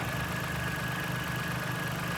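A Mitsubishi Mirage engine idling with the hood up during a CVT fluid check, a steady low hum with a faint constant whine, even and unchanging, with no talk over it.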